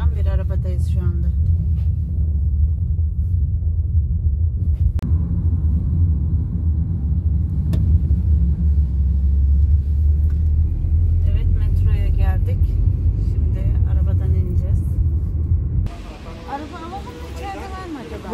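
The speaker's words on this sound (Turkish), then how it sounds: "Gördüğün gibi izole olan bir arabadayız şu anda." Steady low engine and road rumble inside a moving Uber car, continuous and fairly loud, with people talking over it throughout; the rumble drops away sharply near the end.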